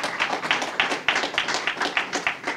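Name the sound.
audience applause for Senator Stephanie Hansen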